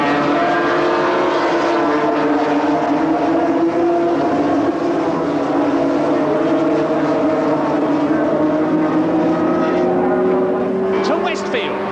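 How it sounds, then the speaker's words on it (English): Several 750cc racing motorcycles, Yamaha and Kawasaki, at Brands Hatch in a 1977 Formula 750 round, droning continuously with engine pitch rising and falling as the pack passes, under steady race commentary. "Druids Bend, it's Baker leading Mick Grant, Yamaha leading Kawasaki, American leading Englishman, and Dave Potter in 3rd position."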